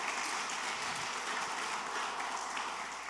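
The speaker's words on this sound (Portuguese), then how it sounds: "Dê um aplauso bem forte ao Messias" A church congregation applauding during a worship service, a steady, dense hiss of many hands clapping together, sustained and fairly distant without pause.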